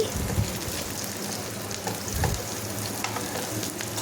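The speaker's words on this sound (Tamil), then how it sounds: "எல்லா இடங்கள்லையுமே பூண்டு வெங்காயமும் நல்லா வதங்கி வரணும்." Garlic and onion sautéing in a pan for garlic chutney, a steady close sizzle and crackle with faint stirring scrapes, continuous and even throughout with no talking.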